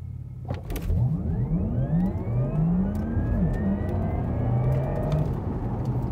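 A Porsche Taycan Turbo electric car accelerates hard from standstill to 100 km/h, its rising electric motor whine climbing steadily in pitch over a loud road and wind rush.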